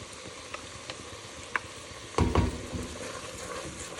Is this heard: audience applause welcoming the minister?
no